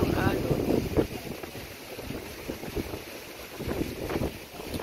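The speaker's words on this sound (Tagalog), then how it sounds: "Ang lakas ng alon." Strong river waves lapping along the Melaka river walk at night, irregular splashing surges over heavy wind rumble on the microphone, with a few faint background voices.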